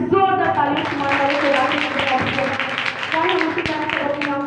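Loud congregational clapping and applause fills a Sunday church prayer meeting, dense and sustained throughout, with talk and musical tones sounding alongside the hands.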